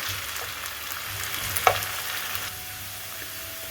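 Potatoes fry in a pan for an Afghani omelette, giving a steady sizzle at close range. The sizzling is briefly stirred midway, and a sharp clink is heard at the very end. No one speaks.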